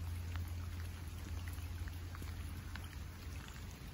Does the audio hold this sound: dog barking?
no